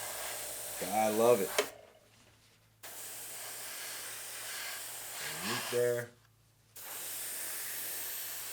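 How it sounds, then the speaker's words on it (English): Paint being sprayed onto a 1/35 scale Tamiya Sherman tank model, heard as two steady airbrush hisses of a few seconds each, separated by brief silences, with a person talking quietly in between. "And I'll spray the underside of the model once this is dry."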